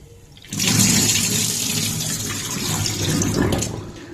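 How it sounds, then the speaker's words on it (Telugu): Millets being washed in water for idli and dosa batter, a loud continuous splashing and swishing of water that starts abruptly and runs steadily throughout, with no talk. "ఒక 2 టైమ్స్ ఇలా వాష్ చేసుకొని పెట్టుకుంటే నీట్గా ఉంటుంది"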